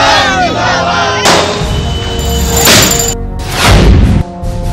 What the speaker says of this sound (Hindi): सड़कों पर गुलाल के साथ आतिशबाजी